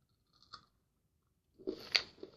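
A small Milka chocolate egg with a thin candy shell is bitten, with a faint crack followed a second later by a louder crunch and chewing, close to the mic.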